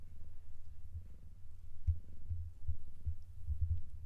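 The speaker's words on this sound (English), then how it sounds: "I'm trying to get him to purr." Close to the microphone, a cat purrs in a low, rumbling throb with soft rhythmic pulses, steady and intimate, with no talking.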